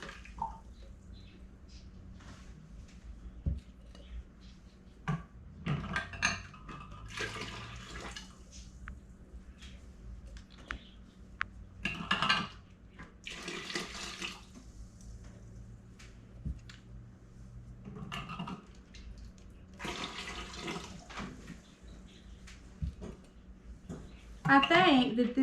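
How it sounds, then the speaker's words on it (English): Water poured out of glass canning jars lifted from a digital pressure canner, heard as several separate splashing bursts among handling clatter and light room noise. "you just take the jars and pour the water out"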